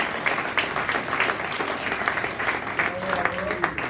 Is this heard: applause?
yes